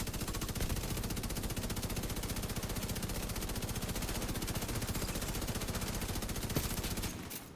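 Rapid sustained automatic gunfire from the video game Division 2, a dense unbroken stream of shots that ends abruptly near the close, with no talk over it.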